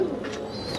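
Pigeons cooing softly in a pigeon loft in Doraji, Gujarat, on a cold day, with a brief low coo heard close by over a muffled background.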